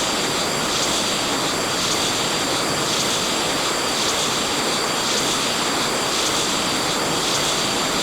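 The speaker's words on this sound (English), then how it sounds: "It's a fighter jet." Fighter jet engine in a flight simulator game, a loud, steady broadband roar with a sustained whine, unbroken throughout and heard alone.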